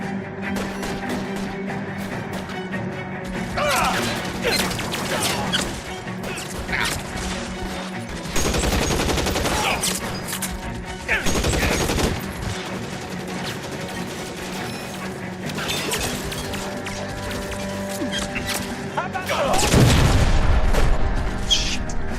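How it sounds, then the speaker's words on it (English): Sustained gunfire crackles through an L.A. Noire shootout in an electroplating plant, dense volleys of shots and heavy booms layered over game music, with a loud burst near the end. "Lay down some covering fire."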